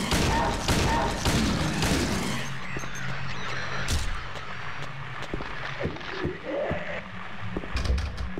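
Pistol gunfire in the video game Silent Hill 2: a burst of sharp, booming shots early on, then scattered single thuds and cracks over a low rumbling game ambience.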